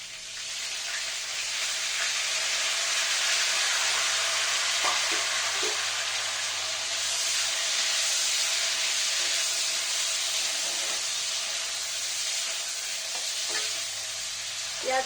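Green chillies and onion frying in hot oil over tempered spices, a steady close sizzle with soft hiss and occasional stirring clinks, no voices.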